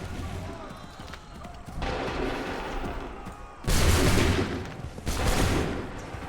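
Musket volleys in Assassin's Creed 3 crack out in two loud, broad bursts partway through, over a background of battle noise and shouted commands.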